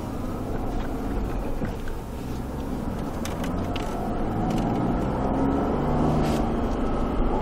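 A car drives steadily around a race circuit, its engine a continuous close drone inside the cabin that builds slightly in the second half, with no pauses or passing traffic standing out.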